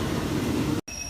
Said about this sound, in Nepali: यो ट्रेन आएको